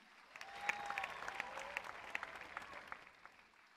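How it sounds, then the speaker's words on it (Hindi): Scattered, fairly faint applause from an audience at the Khelo India University Games launch ceremony, with irregular claps building to a steady patter over a few seconds. "तालियों के साथ इन्हें विदा दें।"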